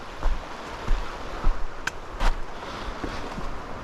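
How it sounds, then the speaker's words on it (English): Creek water runs from a mountain lake outlet in a steady broadband rush, with a few soft knocks and splashes rising now and then through the flow. "Look at the creek really quick, at the outlet."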